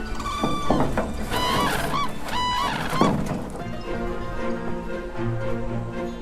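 Cranes in the Zhalong reserve in China give loud, repeated honking calls close by, overlapping trumpeting notes that fade into softer background calls.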